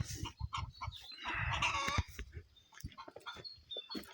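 Chickens clucking busily in a henhouse on a sunny day, several nearby birds calling in short irregular bursts with a denser flurry of clucks midway, no talk.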